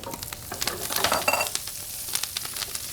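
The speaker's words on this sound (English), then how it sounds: "into this pan, we're gonna take our halved washed Brussels sprouts" Halved, washed Brussels sprouts sizzle steadily in a frying pan that just held bacon, a close, continuous crackling hiss with scattered louder pops and a short stirring burst midway, with no talk.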